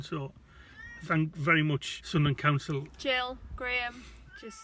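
Pet cat repeatedly meowing to be fed, several drawn-out, rising meows close by, mixed in with a person talking over them.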